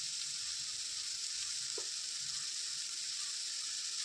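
Chopped banana stem being stir-fried with dried red chilli for a thoran, a steady soft sizzle from the pan with a faint stirring scrape partway through and no talking.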